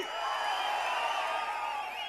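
Crowd at an outdoor political election rally in Paramakudi, a dense continuous roar of cheering and whooping voices, steady and loud throughout without a break.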